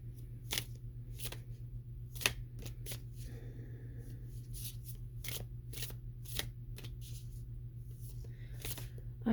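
A deck of oracle cards is shuffled by hand, with repeated crisp riffling bursts close up over a steady low hum.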